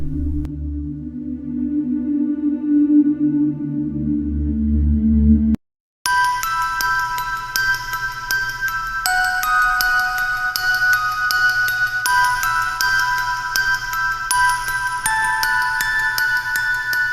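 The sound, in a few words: phone ringing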